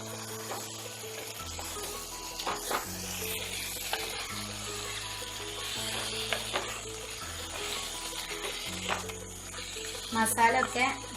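Chicken pieces sizzling in masala in a pan while being stirred, a steady crackling fry with scraping and stirring clatter, under a soft hum and a person's speech.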